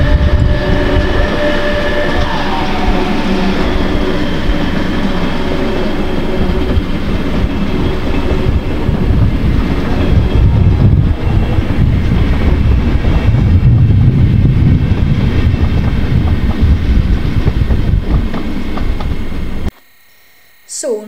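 A train rumbles loudly into Leipzig Hauptbahnhof with clattering wheels and faint squealing, steady and close, before the sound cuts off abruptly near the end.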